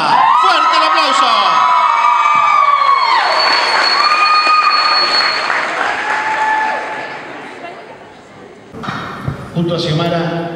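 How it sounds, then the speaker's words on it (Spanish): An audience applauds and cheers at a bellydance festival, loud, dense clapping with whoops close by, while a sustained tonal music note rings over it and fades toward the end before a brief new burst. "¡Fuerte el aplauso!"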